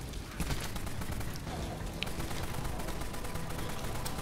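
The GAU 19 rotary gun fires in the Dead Frontier game as a dense, continuous rattling barrage, loud and unbroken for the whole stretch with no pauses.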